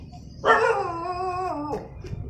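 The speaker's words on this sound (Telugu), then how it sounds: "కుక్కడే మొత్తుకుంటున్నాయి, ఒళ్ళు జల్లు అనిపోయింది" A single dog lets out a drawn-out, wavering howl close by, lasting over a second, with faint background noise around it.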